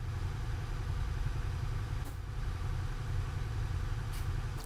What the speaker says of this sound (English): But I'm questioning the next gen Scania sound.